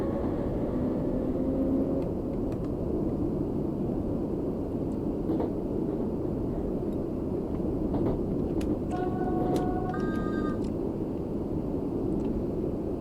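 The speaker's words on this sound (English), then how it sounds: "Acceleration is just mad on these trains." A Class 484 electric train accelerates on the Island Line in Train Sim World 3, a dense steady rumble with rising whine tones and brief pitched beeps, close and continuous.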